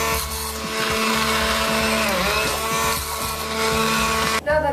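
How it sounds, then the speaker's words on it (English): A kitchen blender whirs steadily and loudly, close by, as it purees food with warm water until smooth. The motor tone wavers slightly, then cuts off abruptly just before the end, with no talking. "Now I'm going to blend this until it's smooth."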